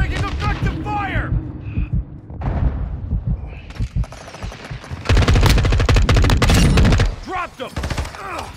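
Modern Warfare II gunfire: rapid automatic bursts crackle loudly and close, densest in a sustained volley near the end, with brief pauses between strings of shots and game voices calling out over the action.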